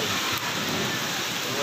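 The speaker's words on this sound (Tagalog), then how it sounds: "Mahangin at may ulan." Typhoon wind and heavy rain lash Caramoran, a dense, steady roar of rain and gusts close around without a break.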